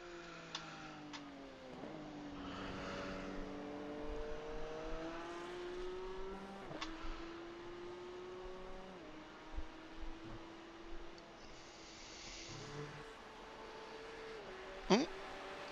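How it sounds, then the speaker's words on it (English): A Porsche Cup race car engine in the iRacing video game at the Nürburgring revs and shifts repeatedly, its pitch climbing then dropping at each gear change, with faint ticking and occasional clicks in the background. "This time, I'm going to remember to reactivate car noises."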